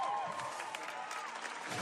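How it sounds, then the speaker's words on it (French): An audience applauds after a film screening at the Venice film festival: a dense, steady wash of clapping from many hands that holds unbroken throughout, with no voices rising above it. "De longues minutes d'applaudissements."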